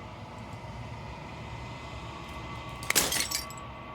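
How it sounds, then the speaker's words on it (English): Glass shatters in the video game Slay the Princess, a single bright crash with a scatter of tinkling shards near the end, rising briefly above a steady low hum and quiet ambient tones. "As the final fragment of glass shatters"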